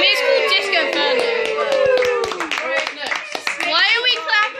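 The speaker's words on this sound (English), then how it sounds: "Why are we clapping?" Several people clap hands indoors during a small home fireworks display, a rapid cluster of sharp claps under children's and adults' chatter.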